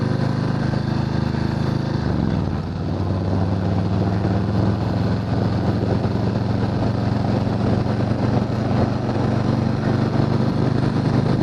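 A 2020 Harley-Davidson Softail Standard motorcycle engine runs nearby with a steady, loud low rumble that holds constant the whole time, dipping briefly early on before settling into an even idle-like drone.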